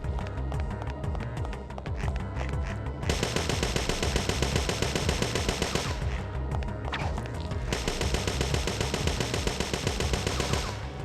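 Video game gunfire in Parasite Eve II, a long, sustained stream of rapid shots and impacts that stays steady throughout, with short changes in texture partway through.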